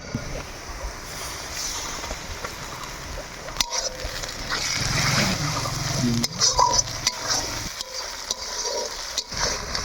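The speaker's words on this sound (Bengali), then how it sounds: "পেঁয়াজগুলো লাল লাল করে ভাজা হয়ে গেলে দিয়ে দিব এখন আদা বাটা" Ginger paste frying in mustard oil with reddened chopped onions in a wok, stirred: steady sizzle with scraping and clattering stirring strokes across the whole stretch, fairly loud and close.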